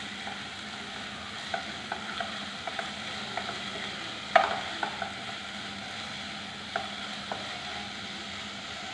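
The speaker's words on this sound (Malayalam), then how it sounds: "നല്ലതുപോലെ ഇളക്കി യോജിപ്പിക്കുക." A mixture cooking in a pan is stirred and mixed under a steady low sizzle, with light scattered scrapes and taps of the spoon and one sharper clatter near the middle.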